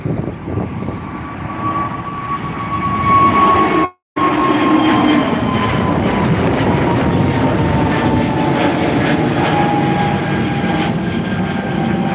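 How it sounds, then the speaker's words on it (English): An Egyptair Airbus A320neo takes off from Dublin Airport, its engine roar broad and steady with a high whine, loud and sustained, cut by a momentary dropout before resuming. "So that was the Egyptair Airbus A320neo heading over to Cairo with a 90-year anniversary sticker."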